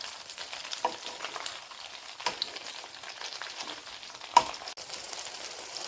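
Red chilies frying in hot oil in a pan for tomato pickle, stirred now and then, giving a steady close crackling sizzle with a few louder scraping clicks of the spoon, no talking.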